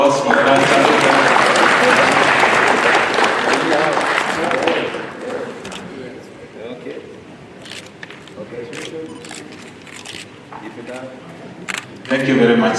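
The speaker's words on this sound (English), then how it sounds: "A round of applause for Crunch Africa." An audience at an award presentation during a public service summit in Nairobi applauds winner Crunch Africa with loud, dense clapping that fades after a few seconds, followed by scattered camera shutter clicks and a brief renewed burst of claps.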